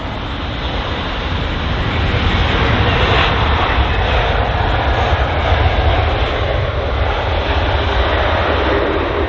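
An Airbus A320neo at London Heathrow produces a loud, steady broadband engine roar with a smooth rushing quality that holds throughout.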